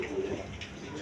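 A pair of quality Bombay pigeons with round crests coo briefly, a low soft call heard close and over a background hum of other birds at a pigeon farm.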